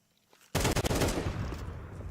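Counter-Strike 2 match gunfire from Desert Eagles and an MP9 comes in as a sudden loud burst of rapid shots, followed by a dense rattling fusillade that trails off slightly.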